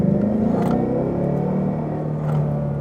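A V8 American muscle car, a 2016 Mustang GT or Camaro SS, revs loudly close by, its deep engine note climbing then easing back down in a steady rumbling drone.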